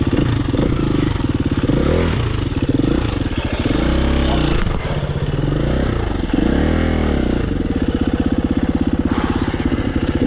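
A four-stroke motorcycle ridden on wet, cold, slippery lanes gives a close, loud thumping engine note that rises and falls with repeated revving, with clatter and wind noise throughout.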